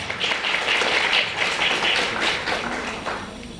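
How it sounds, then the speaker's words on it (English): An audience at a teachers' event applauds to welcome the first speaker, a steady wash of clapping that holds loud throughout and eases slightly at the end. "So please welcome our first speaker with, yes, applause."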